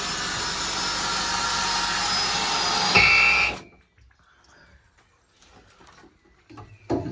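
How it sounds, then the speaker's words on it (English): A loud, steady power drill whirs for about three seconds while drilling roll-cage mounting holes in a Renault Clio 200, then stops abruptly, leaving quiet shuffling and faint handling noises. "drilling the holes for it."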